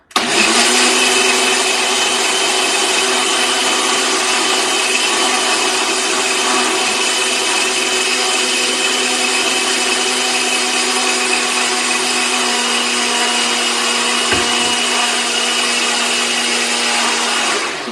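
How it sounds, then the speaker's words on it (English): A blender runs loud and steady for the whole stretch, a continuous high-pitched motor whir with no pauses. "And then I'm going to put it on the blender."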